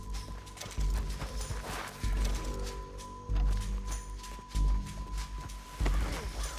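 Horse hooves clip-clop in Red Dead Redemption 2, a steady walking rhythm of heavy thuds repeating about every second and a quarter, fairly close, over a low ambient game bed.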